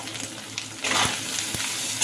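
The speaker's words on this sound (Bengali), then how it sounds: "আলুটা মোটামুটি ভাজা হয়ে গেছিলো তার সাথে একটু নারকেল পোড়াটাও একটু ভেজে নিলাম" Diced potato and grated coconut fry in a pan with a steady close sizzle and a few soft stirring knocks, with no voices.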